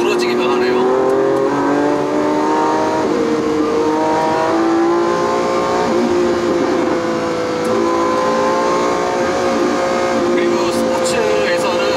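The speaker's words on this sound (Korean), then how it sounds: "사운드가 좀 더 두드러지게 변하네요." A Lamborghini Aventador S V12 accelerates hard on the Phillip Island track, a loud steady engine roar that rises and shifts pitch through the gears, captured close and unbroken.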